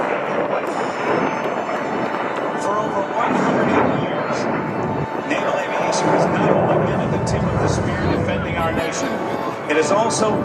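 A US Navy tailhook legacy flight of aircraft roars overhead at an airshow, a loud, sustained jet rumble swelling and easing over about ten seconds beneath an announcer's voice and crowd noise.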